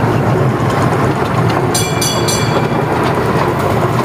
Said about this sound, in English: You like the choo-choo train?